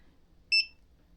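A sublimation heat press timer gives a single short electronic beep, loud and isolated against a quiet background.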